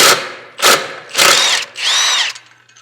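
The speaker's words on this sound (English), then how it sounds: "now I'm going to be using an impact. 17 millimeter is the bolt size up in here." Impact wrench spinning out a 17 mm bolt on the secondary clutch of a Can-Am Defender, heard as four loud close bursts of whirring hammering, each under a second long, with short pauses between.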